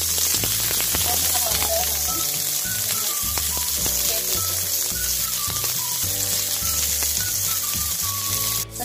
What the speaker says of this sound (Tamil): பச்சை மிளகாய் இது கொஞ்சம் பொறிச்சு வர